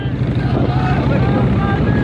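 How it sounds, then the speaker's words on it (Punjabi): A road-show convoy of tractors and cars rolls through villages near Batala, Punjab, giving a steady, close, low engine rumble with a continuous droning hum and no pauses. "ਆ ਗੱਡੀਆਂ ਦਾ ਕਾਫਲਾ ਤੁਸੀਂ ਵੇਖ ਸਕਦੇ ਹੋ"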